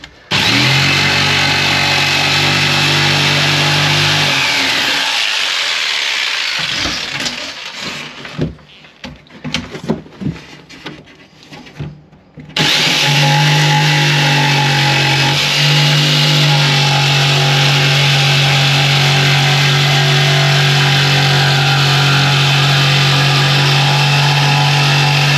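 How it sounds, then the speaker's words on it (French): Power jigsaw cutting through a panel during motorhome gas installation work, a steady loud buzzing drone that breaks into stuttering starts and stops midway before resuming a long continuous cut. "Hop, à la scie sauteuse"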